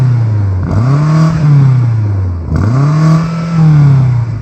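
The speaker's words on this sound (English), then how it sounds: "Can you rev up the BMW, please?" A BMW M5 CS engine is revved twice in close succession, each blip rising quickly to a soft rev limiter and holding, loud and close with no talking.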